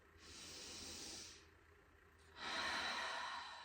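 Two slow, deep breaths, each a long airy exhale, close and soft, with a short quiet pause between them during a calming anger-release breathing exercise.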